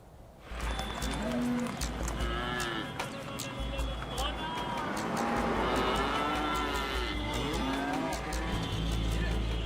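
Cattle lowing repeatedly at a busy cattle market in Uttar Pradesh, India, several moos near and far over a dense crowd murmur and low rumbling traffic.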